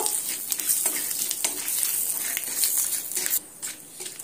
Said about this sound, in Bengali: কালো জিরেটা কয়েক সেকেন্ডের জন্য ভেজে নেব